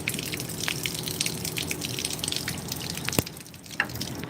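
Water drains steadily through a solar hot water coil on a farm, a continuous gushing, trickling flow with dripping close by, a brief sharp knock near the end.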